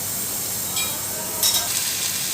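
Seekh kebabs going into half a cup of hot oil in a frying pan for shallow frying, a dense steady sizzle that flares briefly louder as pieces hit the oil.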